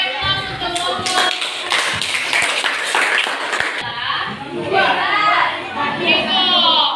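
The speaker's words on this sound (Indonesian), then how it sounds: "Kita berikan aplaus untuk kelompok." A classroom of students clapping for a student group after their presentation, a dense burst of close applause for several seconds that fades as young voices begin talking.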